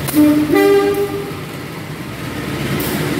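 A CC 203-13 diesel locomotive hauling the Sawunggalih train in Indonesia sounds a loud two-tone horn for about a second. Its engine rumbles steadily beneath, and a faint noise rises at the end.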